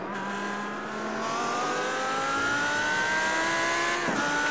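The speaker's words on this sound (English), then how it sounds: "You can see the V10 engine in the Audi R8." An Audi R8 with a V10 engine revs upward in a long rising whine during a night GT race at Twin Ring Motegi, loud and close, with a sharp shift near the end.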